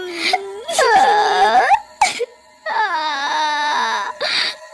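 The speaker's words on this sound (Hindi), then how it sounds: "बबलू को अचानक किसी औरत के रोने की आवाज आती है।" A voice wails and sobs in long, rising and falling cries, loud and close, with brief gasping pauses between bursts.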